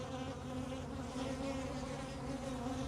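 Dense, steady hum of many honeybees swarming around an opened hive after it has swarmed and a new queen has hatched, filling the air continuously and fairly close throughout.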